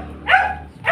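A single dog gives a short, close bark followed by the start of a second, with a slightly whiny, yelping tone.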